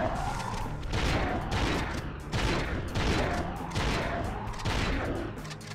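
Blitz cannon blasts from Ratchet & Clank: Going Commando, a game shotgun-style weapon fired in a steady rhythm of about six loud, broad booming bursts, each swelling and decaying into the next over continuous game noise.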